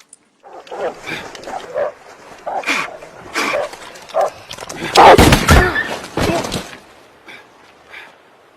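A hunting dog barks and yelps during a chase scene in a film, loud close barks in irregular bursts mixed with thumps and commotion.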